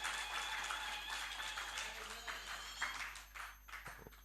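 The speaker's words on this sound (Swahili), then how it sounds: "tuwapigie makofi hao viongozi" Applause for union leaders at a year-end church meeting, a crowd clapping steadily for a few seconds before thinning out into scattered claps, with a voice over it.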